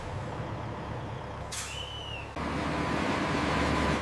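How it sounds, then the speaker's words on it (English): Trucks pull away from a cement factory after unloading: a sharp air-brake hiss bursts out midway, then a steady, louder engine rumble carries on to the end, with no talking. "Once unloaded, trucks leave the facility, making way for the next delivery."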